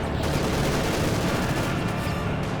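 Dense, continuous heavy machine gun and rifle fire from a Company of Heroes 2 battle, a steady loud barrage of overlapping rapid shots with no pauses across the whole stretch.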